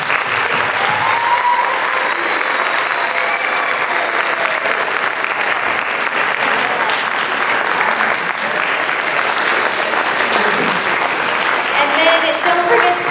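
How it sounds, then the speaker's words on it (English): A crowd gives sustained applause, a dense wash of clapping that stays loud and even for the whole stretch. "give them one more round of applause"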